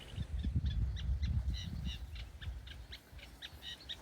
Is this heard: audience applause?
no